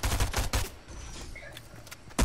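Rapid bursts of automatic gunfire in a Fortnite match, several clustered shots at the start and another burst at the end, loud and close with game effects between.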